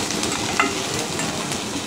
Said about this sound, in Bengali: ভিনেগারটা দিয়ে আমের সাথে ভালো করে এভাবে মিশিয়ে নেব।